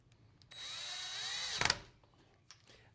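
A power drill drives deadbolt and strike plate screws while a DESLOC K120 fingerprint smart lock is being installed. It gives a close, steady whine of about a second, ending in a short clattering burst as the screw seats.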